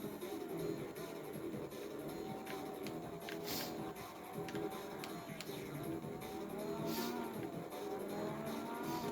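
A race car laps the track on the final lap in the Total Immersion Racing video game, engine whining steadily with shifting pitch, brief tire squeals and other cars' noise around it, continuous and fairly loud.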